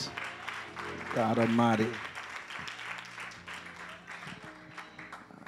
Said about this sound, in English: You ought to give yourselves a hand clap of praise.